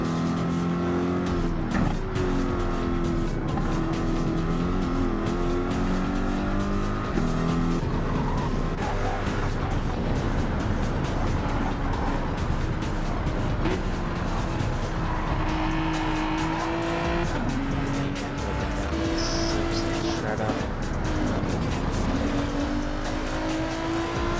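Race cars in a racing video game roar continuously throughout, engine tones rising and falling as they shift, with tire squeal and skidding mixed in, loud and steady from start to finish.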